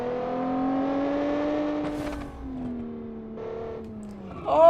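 A car engine in the BeamNG racing game, a 1980s Japanese car with a V8-like tone, hums steadily and shifts pitch as it revs and settles, rising louder at the end.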